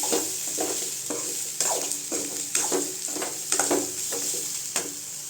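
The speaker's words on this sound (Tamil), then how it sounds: "இப்போ தேங்காய் சேர்த்துக்கலாம். தேங்காய் 1 நிமிஷம் மட்டும் வதக்கி கொடுங்க போதும்." Grated coconut sautéed in a pan for mint chutney, a soft steady sizzle broken by regular scraping strokes of a spatula stirring it, close and alone.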